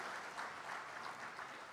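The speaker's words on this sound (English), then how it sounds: "I think we deserve a better round of applause for that." Steady applause from a large audience at a trade and investment forum, a dense even wash of clapping heard from a distance, faint and unbroken throughout.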